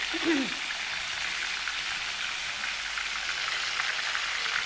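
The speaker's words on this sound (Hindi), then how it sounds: "इसे हम मीडियम टू लो फ्लेम पे फ्राई करेंगे" Marinated food frying in oil over a medium-low flame, giving a steady, even sizzle and hiss throughout with a brief voice at the start.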